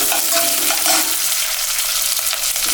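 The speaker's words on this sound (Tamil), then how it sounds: "இப்போ கடலைப்பருப்பு உளுந்து பருப்பு போட்டுக்கலாங்க" Chana dal and urad dal sizzle steadily in hot oil in a pan for wheat upma, with a loud, continuous hiss and a few soft stirring scrapes near the start.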